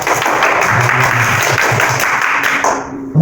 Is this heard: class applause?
yes